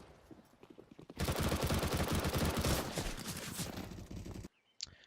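Rapid automatic SMG gunfire in Counter-Strike on the Inferno map: loud, dense bursts of shots that run for about three seconds, then trail off with a few scattered shots before a sudden cutoff.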